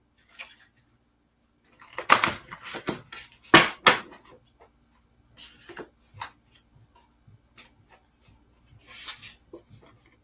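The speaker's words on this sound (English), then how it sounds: "One more shuffle." Tarot cards are shuffled by hand in a quiet room, with several short, crisp riffling and slapping bursts separated by silent pauses. The sound is close and fairly soft.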